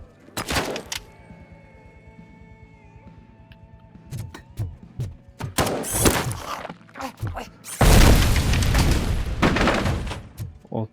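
A bomb explodes in the video game RoboCop: Rogue City, a loud broadband blast near the end that rumbles on for several seconds after earlier sharp bangs and clatter, with a voice talking over it.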